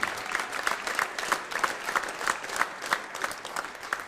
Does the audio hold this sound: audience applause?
yes